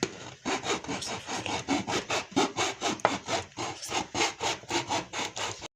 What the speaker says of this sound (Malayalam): ഈ ഒരു സൈസിൽ നമ്മളിപ്പോൾ കട്ട് ചെയ്യുന്നുണ്ട്